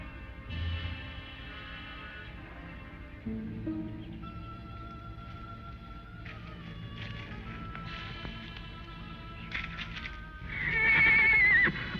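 Horses neigh repeatedly in an old western series episode, with several whinnies spread across the stretch and a loud, close one near the end over a steady background.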